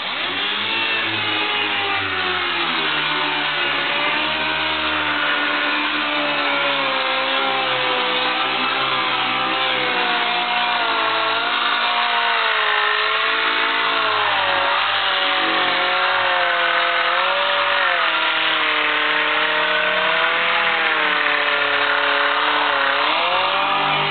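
A power sander grinds steadily against a sink surface during cleaning, a loud continuous whining hum with wavering pitch that runs unbroken for the whole stretch, with no talking.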